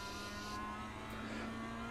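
Mazda MX-5 engine in the iRacing simulator, a steady mid-pitched drone holding at a constant note, faint and even with no voices.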